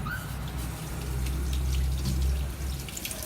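Running water from a tap splashes steadily while eggs are washed by hand for making chicken salted eggs, a close continuous wash with small trickles and drips and no talking.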